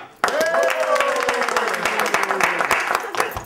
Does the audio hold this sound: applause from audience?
yes